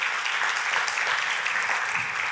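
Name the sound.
congregation applause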